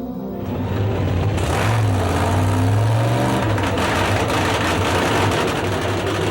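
A 3,000 horsepower aluminum drag racing funny car engine from 1987 fires up and runs, a loud, close, sustained low roar with a rising rev partway through and no talk over it.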